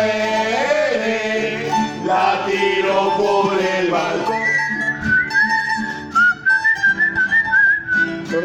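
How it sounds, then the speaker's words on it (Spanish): A person whistles a clear, steady melodic tune at a family Christmas gathering at home, loud and close, following a stretch of singing or voices. "Suena el silbito, eh."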